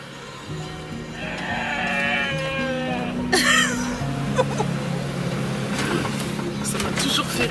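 Goats bleat repeatedly along a quiet Mexican roadside, wavering cries rising over a low steady drone, with several calls overlapping and a passing vehicle noise in the background.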